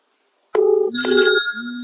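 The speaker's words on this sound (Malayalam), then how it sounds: "എന്നിട്ട് ഞാൻ ആ ഫോണിലേക്ക് ഒന്ന് വിളിക്കാനായിട്ട് പോവാണേ" A telephone ringtone starts abruptly and plays a bright electronic melody, loud and close, with no voices.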